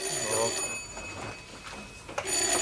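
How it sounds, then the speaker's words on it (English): A telephone rings inside a house, a short burst of bright, metallic ringing over faint room noise. "Don't answer that phone."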